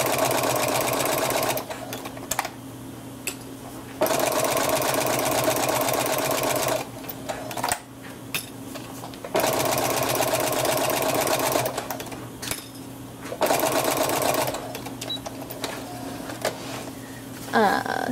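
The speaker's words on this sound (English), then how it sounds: "And then I just straight stitch all the way across." A sewing machine running a straight stitch across cloth diaper fabric, its rapid steady whirring needle sound coming in several long runs separated by short pauses, close and clear.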